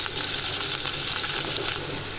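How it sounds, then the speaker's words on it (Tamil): Chicken pieces fry in hot oil with sautéed onions for a mushroom chicken gravy, giving a loud, dense, continuous sizzle that stays close and steady throughout with no voices. "இப்போது சிக்கனை போட்டதெல்லாம் நல்லா ஃப்ரை பண்ணிடலாம்."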